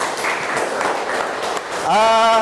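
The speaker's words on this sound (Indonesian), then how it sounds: "tepuk tangan untuk kita semua" Students in a classroom clap together in a brief, moderately loud burst of applause that fades after a couple of seconds, then a voice begins speaking close by.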